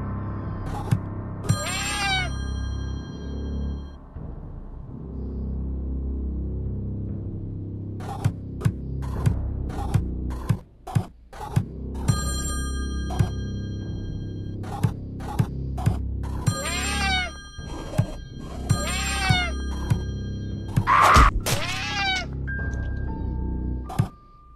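Cats meowing in the Friday the 13th Killer Puzzle video game, repeated short mews scattered over a steady tonal music loop, with a cluster of several meows near the end alongside clicks.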